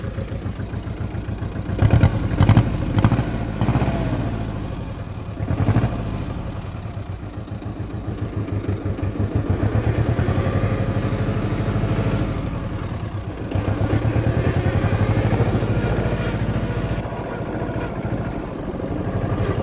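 An Agria 4900 garden tractor engine runs steadily close by, a loud, rough, pulsing chug with slight shaking clatter and a few rises and dips in revs throughout.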